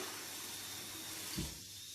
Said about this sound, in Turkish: Şimdi biberlerimi yıkadık.